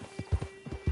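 Horse hooves clip-clop in the Red Dead Online video game, a quick run of dull, close thuds in an uneven walking rhythm, moderately loud against a faint steady background.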